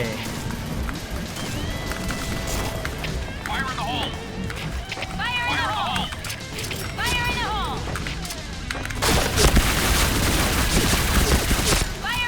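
An old-era machine gun fires in a video game in rapid, dense bursts. The shooting is heavy under excited talk and grows louder and thicker near the end.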